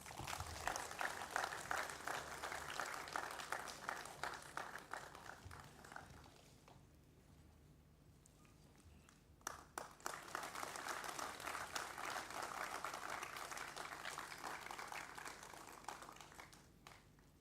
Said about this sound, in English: Can we please have a great round of applause for the entire team?